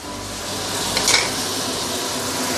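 Tomato and curry leaves sauté in hot oil in a pan, a steady close sizzle that swells briefly with a stir and a faint scrape of a utensil, no talking.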